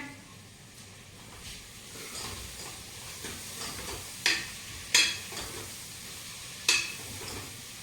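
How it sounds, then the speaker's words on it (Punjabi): Tadka tempering for kadhi sizzles in a pan with onions browning, a steady frying hiss broken by a few sharp crackling pops. "ਮੈਂ ਹੁਣ ਤੜਕਾ ਲਾ ਦਿੰਨੀ ਆ"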